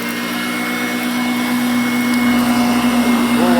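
A vintage 1983 Moulinex Major 553 vacuum cleaner runs steadily and loudly up close, a constant motor whine and airflow roar with a strong low hum throughout.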